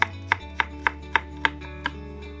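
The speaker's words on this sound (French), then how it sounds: "Puis on cisèle le tout rapidement." A knife chops fresh young garlic on a board in seven sharp, evenly spaced strikes, close and crisp, over a low steady hum with no talking.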